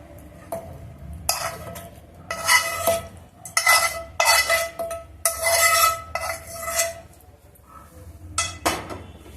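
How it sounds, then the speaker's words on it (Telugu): Sorrel leaves (chukka kura) stirred in a pan for chutney, with repeated scraping and clinking of a utensil against the metal in irregular bursts, close and moderately loud, with faint sizzling between strokes. "మనకు ఇప్పుడు ఈ చుక్కకూర కూడా వేసేద్దాము"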